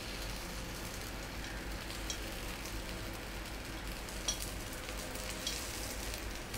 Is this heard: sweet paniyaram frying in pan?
yes